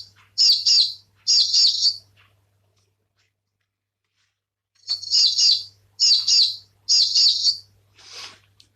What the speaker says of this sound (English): That is the orange-breasted sunbird